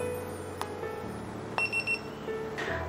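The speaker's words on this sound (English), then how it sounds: "The third press, you will hear three beeps." A DOBE 2-in-1 remote dog training and anti-bark collar gives three short electronic beeps in quick succession, with a faint click before them and a soft hum underneath.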